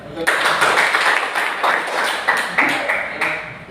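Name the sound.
students clapping hands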